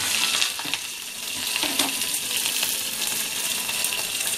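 Garlic, cumin, mustard seeds, green chilli and curry leaves crackling in a spoonful of hot oil, a dense continuous sizzle and hiss, close and steady throughout with no talking.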